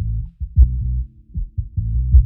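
Deep bass low end placed in the center of a mix in a chill music production, a few thick, throbbing low notes pulsing in a slow rhythm with nothing above them.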